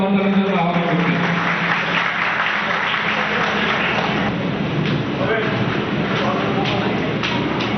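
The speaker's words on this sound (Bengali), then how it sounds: "করতালির জন্য আহ্বান করছি" Sustained audience applause fills a hall at a college farewell and cultural program, a dense, steady wash of clapping that holds at full loudness throughout without breaks.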